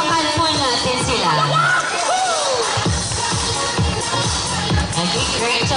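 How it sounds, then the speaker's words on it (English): A school audience applauds and cheers for grade 12 students, a dense wash of crowd noise with shouts, whoops and children's voices rising over steady clapping. "A round of applause for our skilled grade 12 students."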